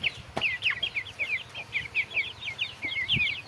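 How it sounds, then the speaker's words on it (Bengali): Chickens clucking outdoors: a rapid run of short, nasal clucks repeating steadily, moderately close, with a few soft knocks and low rustling underneath and no talking. "এই যে মুরগি আছে বাইরে"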